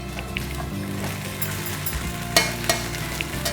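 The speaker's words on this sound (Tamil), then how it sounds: "ஸோ இப்போ வந்து இந்த அவலை வந்து இதில் சேர்த்துடலாம்." Soaked poha tipped into a hot pan for aval upma and stirred, a steady close sizzle with scraping spoon strokes and a few sharp clinks against the pan.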